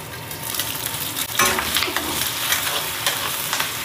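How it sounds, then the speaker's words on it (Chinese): Shrimp drop into a wok of hot oil and fry with a loud, steady crackling sizzle that swells into a sharper burst partway through, spitting and hissing close up with no voices. "多放点油，先把虾给它爆一下，油温给它升高一点，把这个虾直接下锅"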